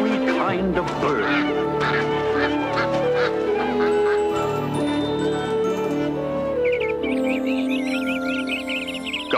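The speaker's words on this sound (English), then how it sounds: "To fly in the skies above, God created every kind of bird." Cartoon birds in an animated Bible creation scene honk and quack like geese and ducks, a busy, continuous chorus of calls with higher chirps joining near the end.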